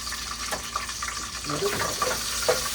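Curry leaves fry and sizzle as they are stirred in a pan while making ghee rice, a steady hissing crackle with scraping stirs, moderately close.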